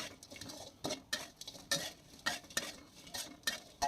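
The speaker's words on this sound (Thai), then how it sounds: "แล้วก็ผัดให้เข้ากัน" Crispy pork is stir-fried with chili and salt in a pan, with rhythmic spatula scrapes and clanks every half second or so over a faint sizzle, close and fairly quiet.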